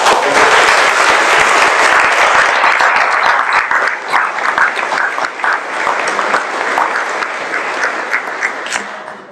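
An audience at a Rotary Club award ceremony applauds steadily for about nine seconds in a sustained, dense burst of clapping, loud and close at first, thinning slightly before fading out at the end.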